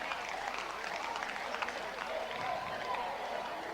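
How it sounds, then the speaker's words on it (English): Crowd applause at a kickboxing fight, a steady wash of clapping from the arena audience with voices mixed in, holding at an even moderate level throughout. "How about a big round of applause for a gallant Tom Burns from WA"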